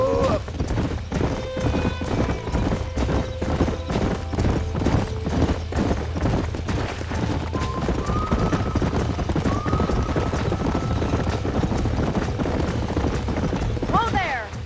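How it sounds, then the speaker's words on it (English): Horses in the Western video game Red Dead Redemption: steady, rhythmic hoofbeats run throughout alongside a game score, with rising whinnies partway through and near the end, heard up close under a busy mix. "These are fine horses."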